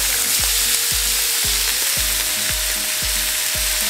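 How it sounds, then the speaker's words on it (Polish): Steady frying sizzle of meatballs in a pan, with a regular rhythmic thumping and a faint sustained tone running through. "pulpeciki ładnie się smażą"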